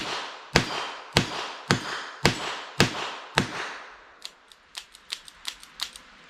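A Charter Arms Target Pathfinder 8-shot .22 LR revolver fires at an outdoor range: six loud, evenly spaced cracks close by, then a string of lighter, quicker snaps and pops from farther off.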